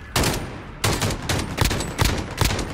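A hard-kicking gun in a Call of Duty 2v2 match fires loud, close, sharp shots at an uneven pace, roughly six or seven reports with short gaps between them.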